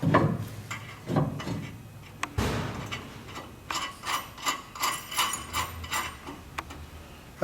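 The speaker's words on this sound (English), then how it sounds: "You can go ahead and tighten down your set screws on your bearings." Bearing set screws are tightened with a ratchet during a belt change on a 6BB mill, giving a series of close, crisp clicking bursts in a steady rhythm after some earlier handling knocks.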